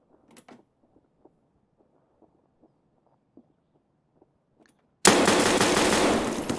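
Gunfire in the Escape from Tarkov video game, starting with a scattered string of faint, sharp shots and taps, then a sudden loud burst of dense noise closing the clip.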